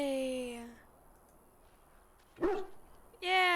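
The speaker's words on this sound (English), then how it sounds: "he bounces around you, barking excitedly." Dog in the video game Dragon Age: Origins gives a single short, excited bark in a brief gap between stretches of talk.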